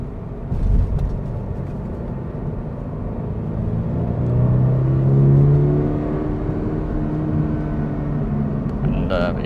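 A Toyota GR86 manual with a 2.4-litre engine hums steadily, then swells as it accelerates with a rising, droning tone before settling, heard from inside the car.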